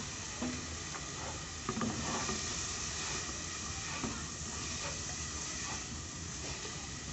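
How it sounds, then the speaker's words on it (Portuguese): Calabresa sausage sautéing in a pan gives a steady, close sizzle with light stirring scrapes throughout, a few brief clinks standing out, and no talking. "Dou aquela refogada bem boa, né? Na calabresa."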